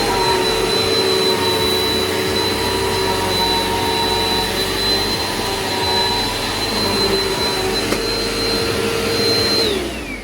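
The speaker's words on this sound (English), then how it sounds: "So this vacuum cleaner is absolutely amazing. It's so powerful" A Eureka PowerSpeed upright vacuum cleaner roars steadily at close range with a high whine, then winds down as it is switched off near the end.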